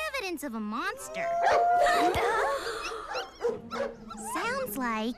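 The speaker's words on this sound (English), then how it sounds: "Sounds like dogs?" Cartoon dogs bark, yip and whimper in a busy run of high, bending cries, with a character's voice speaking between them.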